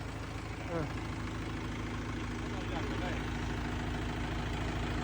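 A Mahindra tractor engine runs steadily at a low idle, a constant close rumble with a slightly uneven throb.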